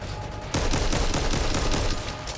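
Gunfire in the zombie shooter Back 4 Blood, with assault rifles firing: after a brief quieter lead-in, a loud, continuous rapid burst of automatic shots fills the rest of the clip.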